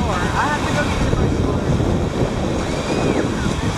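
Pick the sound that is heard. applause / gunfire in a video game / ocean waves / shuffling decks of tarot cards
ocean waves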